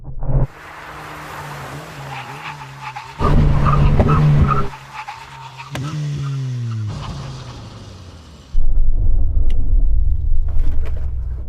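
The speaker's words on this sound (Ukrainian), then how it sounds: "ми підійшли до тесту гальм на швидкості 160 км на годину" A loud SUV engine roars and winds down as tires screech under hard braking from 160 km/h, followed by a deep rumbling surge of the engine near the end.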